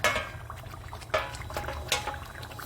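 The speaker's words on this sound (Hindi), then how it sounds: "अब इसमें मैं 1 कप के करीब गर्म पानी डालती हूँ" About a cup of hot water is poured into a cooking pot of turnip korma, a soft splashing pour with a few sharper splashes and light clinks of the pot, fairly quiet and close.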